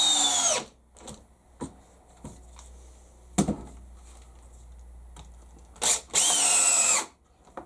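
Power drill driving screws into a piece of pine at its highest setting, several short bursts of whirring: a long run at the start and end, with brief spins and a sharp catch between them, close and loud.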